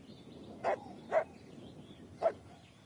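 A dog in the video game The Last of Us Part II gives three short, close yelping cries as it falls after being shot, evenly spaced over a faint ambient background.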